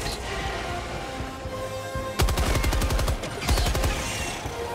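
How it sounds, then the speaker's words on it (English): A heavy machine gun hip-fired in Helldivers 2 lets off two loud rapid bursts of shots over a steady background rumble of game ambience. "love about hip firing with the heavy machine gun"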